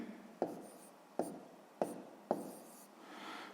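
A pen writes down a maths answer on paper: four sharp taps as the pen strikes the page at regular intervals, each followed by soft scratching strokes, close and quiet with no talking.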